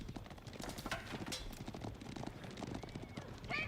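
Horse archers in the real-time strategy game Age of Empires IV gallop with a dense, continuous clatter of many hooves, faint and steady, with a short whinny near the end.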